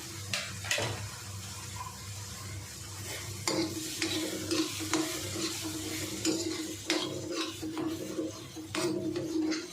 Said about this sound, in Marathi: मस्त एकदम परतून परतून घ्यायचं म्हणजे कच्चेपणा लसणीचा पण आणि हिरव्या मिरचीचा पण निघून जातो